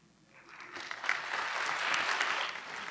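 Audience applause at a Saint Elizabeth Ann Seton Charter Day ceremony, a dense wash of clapping that swells over the first second and then holds steady and full to the end.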